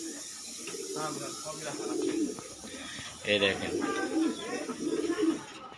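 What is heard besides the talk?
pigeons cooing in a tree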